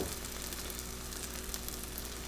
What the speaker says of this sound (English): We're gonna throw a piece of that bread down. That's gonna start sizzling.